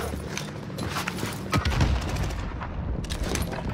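Gunfire in the shooter Warzone Pacific, a dense fusillade of shots rattling throughout, with a heavier burst of booming impacts near the middle, close and loud in a busy battle mix.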